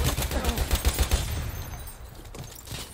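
Rapid gunfire in the video game Battlefield 1, a dense burst of close, loud shots at the start that gives way to fainter battle noise.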